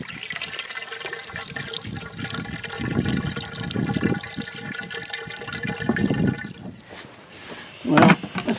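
An old cistern water pump runs with a steady mechanical hum, while water gushes and gurgles through it in uneven surges and then sputters near the end.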